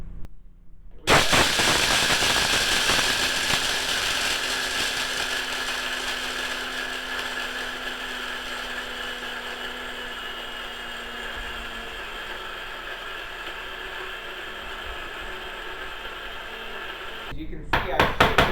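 Dried chickpeas are ground into flour by a machine, which starts with a sudden loud whirring roar. The harsh, continuous grinding runs evenly for about sixteen seconds, then cuts off abruptly before briefly restarting.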